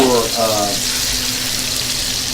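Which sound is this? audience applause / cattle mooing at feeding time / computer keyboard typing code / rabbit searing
rabbit searing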